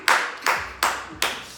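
Hands clap five times in a steady, sharp rhythm about every 0.4 seconds, each clap crisp and close with a short decay, no voices.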